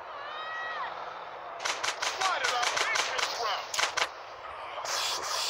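Video game gunfire in GTA San Andreas played on a phone cracks in rapid bursts of sharp shots, close and loud, with a voice speaking over the opening moments before the shooting starts.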